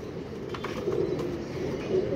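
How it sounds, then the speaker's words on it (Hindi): A pigeon coos softly, with low, muffled throaty calls repeating over steady background noise outdoors. "पूरा हुआ कबूतर है, बस हुई हुई है।"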